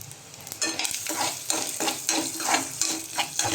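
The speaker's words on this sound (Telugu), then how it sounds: "ఆయిల్ వేడిగా ఉంది కదా, ఒకటేసారి పెట్టేద్దాం, వేయించేసుకుందాం." Mixed vegetables frying together in hot oil in a home kitchen, with a continuous close sizzle broken by several stirring scrapes of a utensil, and no speech.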